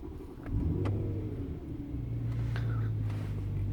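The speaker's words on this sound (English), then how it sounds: "rise engine speed to approx 2000 RPM and maintain at the constant level" A BMW M3 engine with the DCT gearbox rises to about 2000 RPM and holds there, a steady near rumble and drone with a slight climb at the start.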